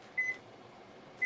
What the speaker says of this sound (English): Let's do timer 10.